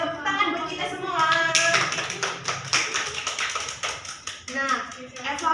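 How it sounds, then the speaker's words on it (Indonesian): A primary-school class claps together in a classroom lesson, irregular bursts of hand claps with children's voices and a teacher talking over and between them. "Tepuk tangan buat kita semua."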